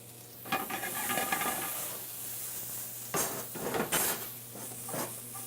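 Onion fries in olive oil in a pan with a steady hiss, broken by a few clattering stirs and utensil knocks against the pan, with no talking.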